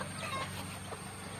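A hen clucking softly at a backyard brooding spot where eggs are set under her, faint low murmurs spread through a steady background hum.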